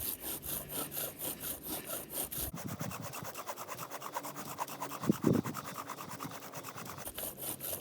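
A bow drill spindle grinds against a wooden fireboard in long, even back-and-forth strokes, a steady raspy rubbing that repeats close up with brief pauses at each reversal and no talking.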